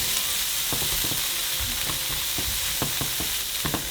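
Chopped, seeded tomatoes sizzle steadily in a hot pan, a constant frying hiss broken by frequent soft knocks and clicks of stirring, close by with no talking.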